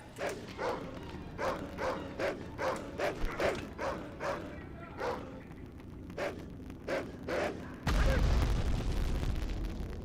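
Dogs bark in the World War II shooter Medal of Honor, a quick run of sharp evenly spaced barks that fades, followed by a louder low rumbling swell near the end.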